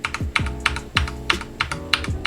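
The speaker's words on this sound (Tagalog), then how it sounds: "Here, ang click ng ating Redragon K530." Keys clack on a Redragon K530 60% mechanical gaming keyboard, about eight sharp, close clicks in an uneven typing rhythm with no other sound.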